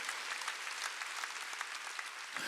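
A church congregation at a Wednesday worship service claps in unison, dense steady applause from many hands, fairly distant and sustained through the whole stretch.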